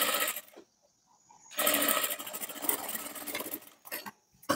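A sewing machine stitches a bridal blouse with aari work in short bursts of close mechanical whirring, broken by brief pauses between runs.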